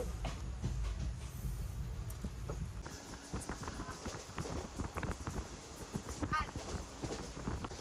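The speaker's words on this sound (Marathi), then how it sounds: "आणि ट्रेन सुद्धा आता पुढे जाण्यासाठी निघालेली आहे" A train pulling out of a station rumbles and clatters at close range, its rhythmic wheel noise shifting partway through as it moves off, with voices faintly underneath.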